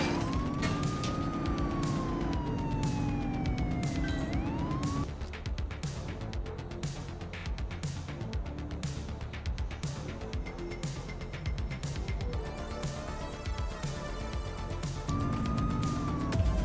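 Police car sirens wail and yelp through a chase in the video game The Precinct, loud and near over a steady engine and road rumble, the rising and falling siren returning near the end.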